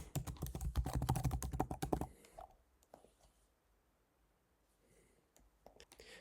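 Password typed on a computer keyboard while logging into a Bluehost email account: a burst of close, busy key clatter for two seconds, then sparse, faint clicks.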